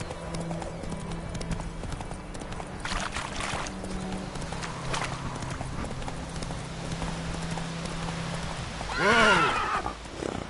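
Roach, the horse in The Witcher 3, trots and gallops with steady hoof clops, then gives a loud, rising and falling whinny near the end; faint voices are heard at times.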